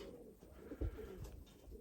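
Pigeons coo softly at a loft housing Mykolaiv, Budapest, Chaposh and mirror breeds, low gentle hoots repeating faintly against quiet background.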